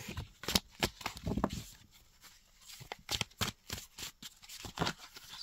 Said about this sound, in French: Alors, je les mélange.